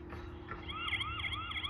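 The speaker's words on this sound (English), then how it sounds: "There's the siren, and you can turn it back off." A faint electronic siren from a solar outdoor wireless security camera wails in quick repeating up-and-down sweeps, a few cycles over a low background hum.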